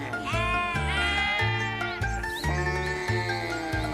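Several sheep bleat close by in wavering, overlapping cries, one after another with barely a pause. It sounds like a farmyard flock, and a low rhythmic pulse runs underneath.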